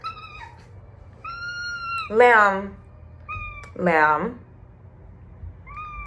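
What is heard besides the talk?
pet cat meowing, wanting to play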